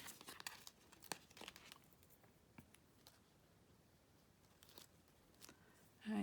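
Stickers peeled off their backing while Bible journaling at a craft table, giving soft crinkly tearing sounds in short, scattered bursts. A louder rustle comes near the end, and nobody speaks.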